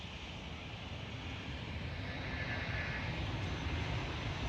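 A Croatia Airlines airplane at Schiphol Airport, Amsterdam, a distant, steady jet engine roar that builds slightly in loudness as it passes.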